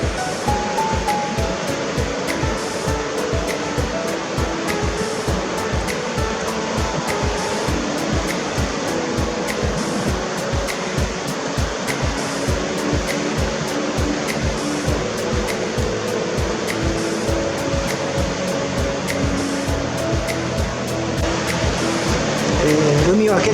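Rough sea waves at Higashihama beach in Iwami, Tottori, make a loud, continuous roar of surf with a steady pulsing rush that runs without break.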